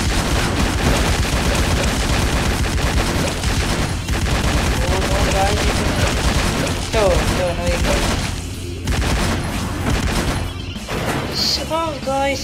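Rapid gunfire rattles through a zombie shooting video game set in a city, dense, loud and nearly continuous, mixed with game effects and a voice talking over it.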